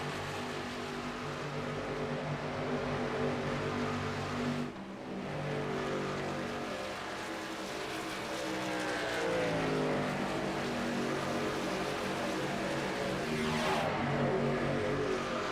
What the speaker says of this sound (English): Big gaggle of trucks here